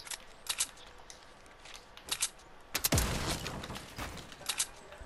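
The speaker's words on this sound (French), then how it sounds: "Ça tire, ça tire." Gunfire crackles in a Fortnite match, with a few scattered shots and then a longer burst of rapid fire. The shots are moderately quiet, as if from nearby players, and no one speaks.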